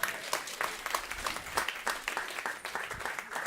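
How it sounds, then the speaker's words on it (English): A conference audience applauds to welcome Brandon Lombardi, Chief Sustainability Officer of Sprouts Farmers Market: a brisk, dense round of clapping from a crowd, fairly close and lively throughout. "Give him a round of applause."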